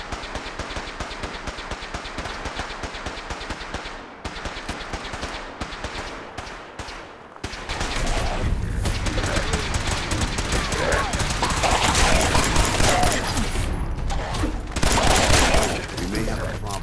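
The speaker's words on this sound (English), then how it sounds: "A little firefight here." Gunfire in a Fallout 4 firefight near a police station: a long run of rapid automatic bursts, growing denser and louder halfway through, with a constant barrage of shots.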